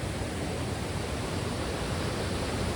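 Heavy rain and a rushing stream near Kalu waterfall form a dense, steady roar of water that stays constant and loud with no pauses.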